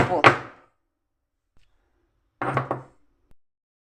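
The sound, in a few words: pounding garlic with salt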